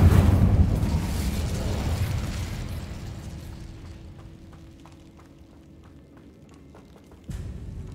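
Casting the Incendio fire spell in the Hogwarts Legacy video game sets off a loud burst of flame right at the start. The roar slowly dies away, then a second sharp whoosh cuts in near the end. Nobody talks.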